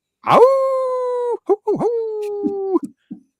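A person imitates a howl with their voice, giving two long, sustained wailing tones close to the mic, each ending in a brief yelp, followed by a few short low vocal bursts.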